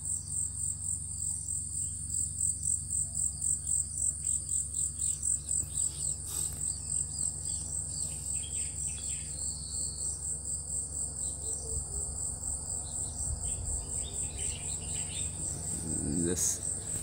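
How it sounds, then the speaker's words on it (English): Crickets chirp in a constant high, pulsing trill, with faint birds calling now and then in a quiet outdoor setting near the ocean in The Gambia. "the sound of the crickets and birds."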